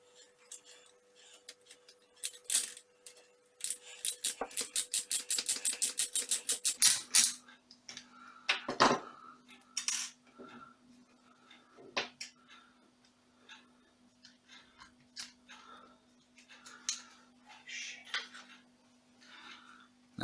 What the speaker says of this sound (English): I'll unscrew it.